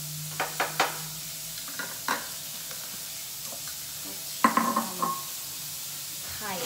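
Garlic frying in a pan for Thai stir-fried egg noodles with chicken sausage, a soft continuous sizzle under sharp utensil scrapes and taps against the pan at irregular moments.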